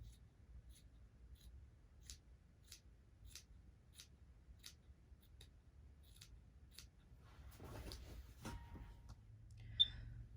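Scissors snip through two pinned layers of fabric for a hand-sewn tube dress, a steady series of about a dozen quiet, crisp cuts close by, followed by faint rustling of the fabric.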